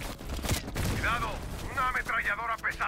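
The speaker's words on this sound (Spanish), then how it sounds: "Una ametralladora pesada en la cumbre." Heavy machine gun fire from a hilltop emplacement in Call of Duty Black Ops Cold War, a rapid crackling burst that opens the moment, with a voice speaking over it.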